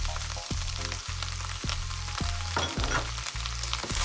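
Onions, garlic, knuckles and green seasoning frying in a pan for a beef lasagna, giving a steady close sizzle broken by several sharp stirring knocks of a utensil against the pan.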